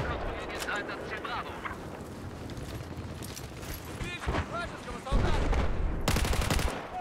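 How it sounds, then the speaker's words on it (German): Rapid bursts of sniper gunfire in Battlefield 4 crack repeatedly over a busy background of battle noise, with a dense loud volley near the end. "Da versucht gerade ein Sniper auf mich zu schießen."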